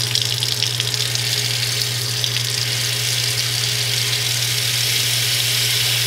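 Hot water pouring steadily from a house tap, a loud constant gushing hiss that stays level throughout with a low hum beneath and no voices.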